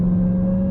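Dodge Durango SRT Hellcat, 2023, engine droning steadily while merging onto a highway near 70 mph, a loud, constant low hum with a strong tonal rumble, no talk.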